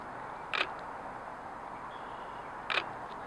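Two quiet Nikon DSLR shutter clicks with an integrated vertical grip, well apart and close up, each brief and crisp against a faint steady background.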